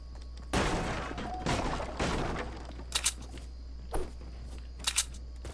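Gunfire in Fortnite, a couple of sharp bursts up front and then scattered lighter pops and clicks, fairly close and sparse.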